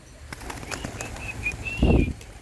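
Racing pigeons flap their wings at feeding time, a burst of close, fluttering wingbeats that swells into a loud whoosh near the end, with faint bird calls in the background.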